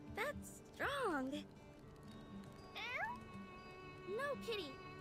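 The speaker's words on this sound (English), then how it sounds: "No, kitty. Bad kitty." A cat in the My Time at Sandrock video game gives several loud, drawn-out meows with rising and falling pitch, spaced across a few seconds over faint background game sounds.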